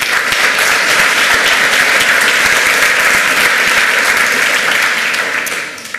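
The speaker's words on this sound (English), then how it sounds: "One round of applause for Kai" An audience at a hacker conference talk claps for a speaker, a loud, dense, continuous round of applause that stays level for several seconds before starting to thin out at the very end.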